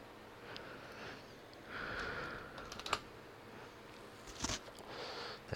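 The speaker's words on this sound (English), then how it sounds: "I'm having all kinds of trouble typing apparently" Uneven typing on a computer keyboard, soft irregular clicks with a few louder taps and short bursts against a steady room hiss, no talking.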